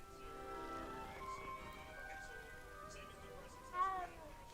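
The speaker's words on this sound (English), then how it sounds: "I will pet every cat that I see." A cat meowing in the Hogwarts Legacy video game, a short rising-falling meow near the end, heard faintly beneath a person talking over soft game ambience.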